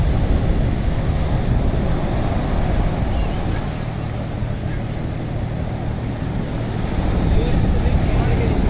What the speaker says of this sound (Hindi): कितनी शिद्दत की लहरें हैं